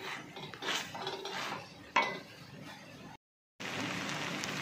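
A dal masher pounds cooked fig leaf greens in a pot, producing soft irregular clinks, scrapes and squelches of metal against the vessel, with one sharper knock and a brief silent break.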